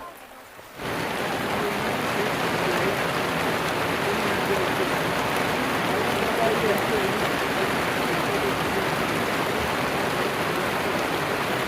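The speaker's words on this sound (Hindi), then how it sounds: "बारिश शुरू हो चुका है।" Steady, loud rain on a foggy mountain trekking route to Kedarnath, a dense continuous hiss that begins abruptly after a brief quieter moment and holds evenly throughout.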